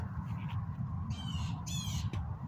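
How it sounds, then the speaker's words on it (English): Crows caw and squawk several times over a steady rumbling background, the harsh calls coming in short bursts at moderate distance. "Birds are going off because we have our new BB gun"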